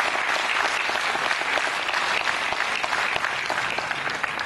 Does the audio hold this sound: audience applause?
yes